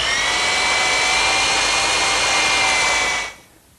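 A power drill with a 1/4-inch bit whines steadily at high speed for about three seconds while drilling a pilot hole in wood, close and loud, then spins down and stops.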